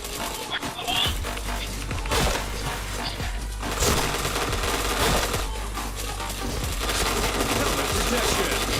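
Gunfire rattles in a video game shooter: dense, rapid bursts of shots and sharp cracks come back to back for the whole stretch, loud and close.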